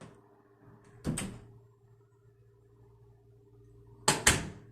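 A bathroom door swings shut under a door closer, giving two separate closing thuds about three seconds apart over a steady low hum, with no talking.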